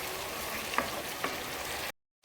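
Tomato masala frying in a pan, a soft steady sizzle with a couple of light stirring taps, ending in a sudden cut to silence.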